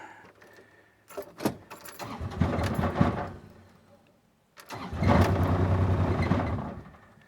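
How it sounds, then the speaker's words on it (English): Kubota RTV-X1140 diesel side-by-side cranking and trying to start after a cold snap, two loud bursts of engine churn separated by a short pause, with faint clicks and rattles around them. "I have not been able to keep my Kubota side-by-side running"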